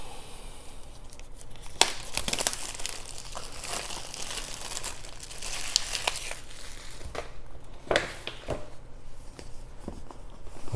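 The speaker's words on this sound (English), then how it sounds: "let's peel off this plastic" Protective plastic film peeled and crinkled off an iPad Mini 6 box, continuous close crackling and rustling with sharper tearing snaps scattered throughout.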